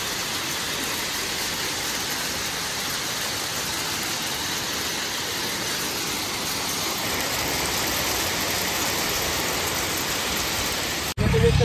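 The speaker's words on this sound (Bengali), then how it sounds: "এখনো ঝিরিঝিরি বৃষ্টি হচ্ছে" Light drizzle falling in Gangtok, heard as a steady, even hiss of rain on surfaces that stays constant and fairly loud, followed by a sudden cut and a short burst of noise at the very end.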